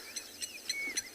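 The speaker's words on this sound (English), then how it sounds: "blacksmith lapwing" A blacksmith lapwing calling during a morning safari in South Africa gives four sharp, metallic clinking notes, evenly spaced and fairly faint, over a quiet background.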